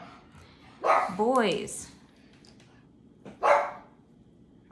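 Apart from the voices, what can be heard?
pug dogs barking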